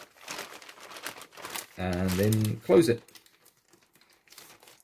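An old plastic bag crinkles and rustles on a workbench while a vape mod, an SLH LS-45, is being built. The crinkling comes in close, uneven bursts, with a person talking over and between them.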